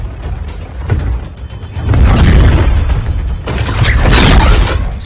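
An arm cannon blasting in an Injustice 2 video game cutscene: a loud, close booming burst with rumbling, crackling mechanical debris that swells and holds, alone without talk.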